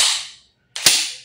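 An Umarex HK416D airsoft gas blowback rifle firing, two sharp loud cracks with a brief gap between them, each trailing into a short hiss.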